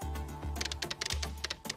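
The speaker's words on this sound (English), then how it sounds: "You can hear me clicking, chat." Computer keyboard and mouse clicking during a lawn mowing simulator game demo: a quick run of close, crisp key taps and clicks in an irregular rhythm over a low background hum, no voices.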